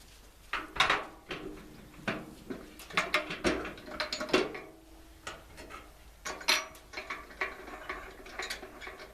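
A lid is closed and bolted down on a filled container, giving a run of close metallic clicks, ratcheting turns and clunks in irregular bursts with short pauses, no voices over it.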